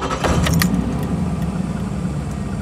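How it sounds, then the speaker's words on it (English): A car engine idles steadily after being started during a digital dash install, a low continuous rumble with a few brief higher clinks near the start. "Start the car and see what happens."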